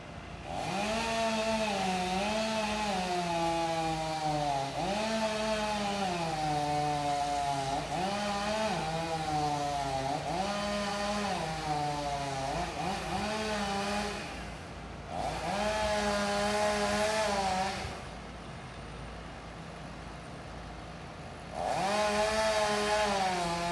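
Sharp-bladed chainsaw cutting a nine-foot section from a tall pine during a tree removal, loud and near, engine revving in repeated surges and dips between cuts, with short idling lulls and no talk.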